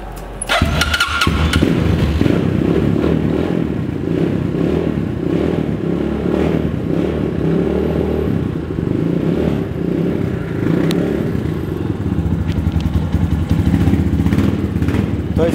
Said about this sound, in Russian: сейчас для сравнения мы заведем BSE